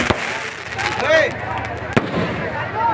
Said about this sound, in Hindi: आतिशबाजी लगातार शुरू है। पटाखा आप लोग देख सकते हो